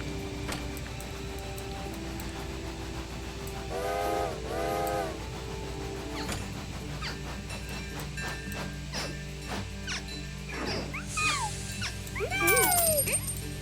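Two bursts of a shrill steam whistle, first a short double toot and later a louder one, over a steady mechanical hum and chugging background.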